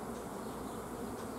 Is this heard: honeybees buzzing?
yes